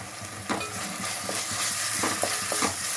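Ginger-garlic paste sizzles steadily in hot oil, with a few soft stirring scrapes cutting through the frying.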